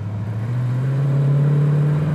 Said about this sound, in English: You can hear that 4-barrel open up.